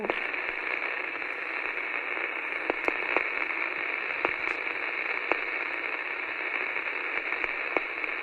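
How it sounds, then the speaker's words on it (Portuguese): Steady radio static hisses between stations, a constant broadband rush broken by scattered sharp crackles and clicks, with no voice or music coming through. "enquanto a frequência não capta o sinal, não capta a estação certa, fica aquele chiado"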